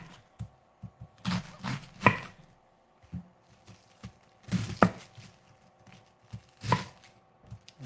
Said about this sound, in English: when this is done chopping